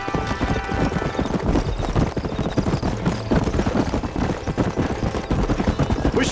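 A horse gallops hard in the Red Dead Redemption video game, a loud, dense and steady drumming of hooves that runs without a break.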